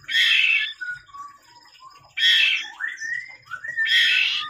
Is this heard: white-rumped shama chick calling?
yes